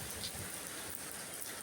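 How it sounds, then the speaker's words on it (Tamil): Heavy rain falling steadily in Somalia, recorded from a rooftop, a dense, even hiss of drops with no pauses, moderately loud and alone. "சரியான மழை பெஞ்சிக்கிட்டு இருக்கு"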